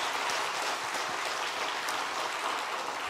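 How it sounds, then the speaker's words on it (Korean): A church audience at a dedication service claps continuously in a dense, even wash of applause that fills the hall, sounding like heavy rain with no pauses throughout. "하나님께 먼저 영광의 박수 한번 올려드리고요"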